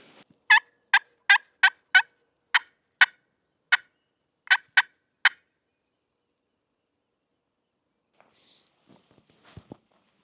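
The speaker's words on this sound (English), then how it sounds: "You hear a lot of bad turkey calling early in the season." Turkey call or gobbling during a spring turkey hunt, a rapid series of about a dozen sharp clucking notes over several seconds, then near silence with a few faint rustles and taps.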